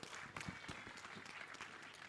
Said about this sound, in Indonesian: tepuk tangan dulu untuk KPAI.